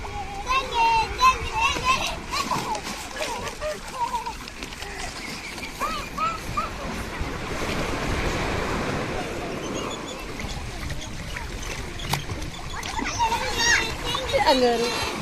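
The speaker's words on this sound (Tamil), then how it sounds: "அவங்களுக்கு ஒரு ஜாலி கடல்ல குளிக்கிறது கொண்டாட்டமா தான் இருக்கு" Children bathing in sea waves on a sunny beach, with surf washing in and out and water splashing beneath near and distant children's chatter and shouts.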